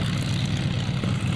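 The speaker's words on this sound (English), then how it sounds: "There's a couple of aircraft going up at once here" Radio control model airplanes fly at an airshow at Cold Lake, giving a steady buzzing propeller drone at mid distance over outdoor background noise.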